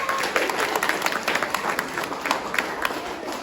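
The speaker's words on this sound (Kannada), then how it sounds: "ಒಂದು ಚಪ್ಪಾಳೆ ಆ ಮಗುಗೆ" An audience applauds a child at a Ragi Kana organic market fair, a dense burst of many hands clapping steadily and fairly loudly throughout, with crowd murmur underneath.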